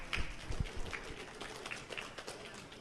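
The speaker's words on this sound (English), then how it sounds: "please join me in a big round of applause for Alpha Aviation" Audience applause at an afternoon After 5 networking event for the sponsor Alpha Aviation, a scattered round of clapping with a few sharp claps up front, moderately distant and fading.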